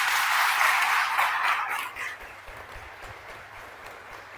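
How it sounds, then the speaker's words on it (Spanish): A church congregation gives a round of applause, dense clapping loud at first and tapering off after a couple of seconds into fainter scattered claps and room murmur. "yo te invito a que le des un aplauso a la Iglesia Católica"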